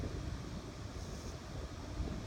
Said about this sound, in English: It's nice and breezy.